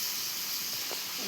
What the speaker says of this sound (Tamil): எண்ணெய் ஊற்றுவேன்.